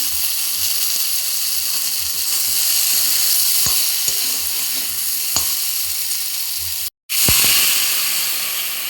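Taro leaves (kochu shak) with salt sizzle steadily in a hot pan, a bright continuous crackle broken by a few sharp clicks and one brief drop to silence.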